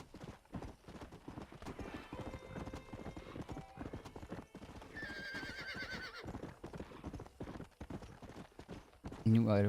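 A horse gallops in Red Dead Redemption, its hooves clip-clopping in a quick rhythm and a whinny rising partway through, while someone talks over the gameplay.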